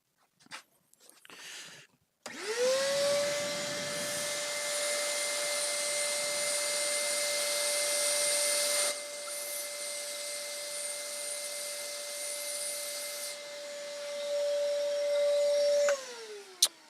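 A Hoover vacuum cleaner runs in a woodturning shed, switching on with a rising whine and holding a loud, steady drone for about fourteen seconds before winding down, with a second machine tone layered in partway through.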